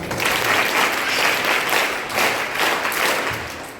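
Audience applauding the commissioner at a school Vanamahotsava Day celebration, a dense, lively burst of many hands clapping together for a few seconds, swelling and easing slightly before fading.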